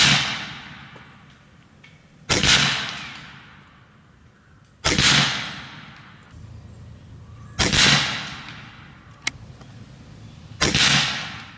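Four sharp cracks from an Air Venturi Avenge-XL .30 caliber PCP air rifle, fired at slow, roughly even intervals, each loud and close with a short decaying tail, plus one fainter tick between shots.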